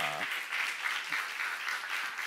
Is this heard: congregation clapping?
yes